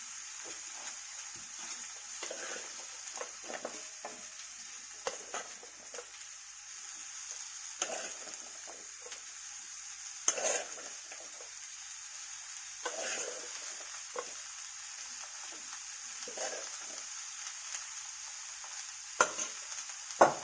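Cooked jackfruit seeds fry in a pan with a steady, gentle sizzle, while a spoon stirs and scrapes them in intermittent soft knocks and clatters, close by.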